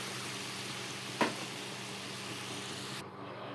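A paneer biryani curry sizzles steadily in a pan with a faint continuous hiss, and a single soft thump marks the rice going in before the frying noise carries on.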